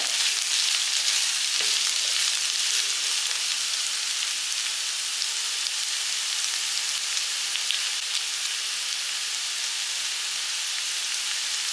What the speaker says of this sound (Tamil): காயை எண்ணெயிலே நல்லா வதக்கி விடுங்க